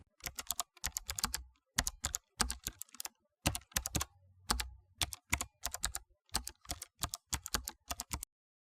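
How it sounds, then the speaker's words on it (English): Rapid keystrokes on a computer keyboard come in short bursts with brief pauses, close and clear, with no voices. "I type."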